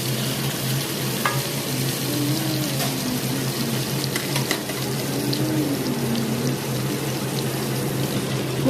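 Marinated fish fries in hot oil in a pan, a steady close sizzle and crackle running unbroken for several seconds, with occasional faint clinks.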